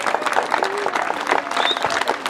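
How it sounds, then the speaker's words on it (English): A crowd at a community meeting about the Cerro Pelado wildfire in New Mexico applauds the fire department, brisk, close clapping with a few faint voices mixed in. "I think a big applause needs to go to your fire department"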